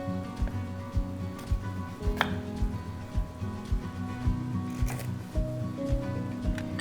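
A knife chops fresh ginseng on a board for braised pork belly, with crisp, evenly spaced cuts at about two per second, close and alone.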